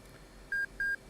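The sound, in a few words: series of beeps ending flight control check, DCS F/A-18 video game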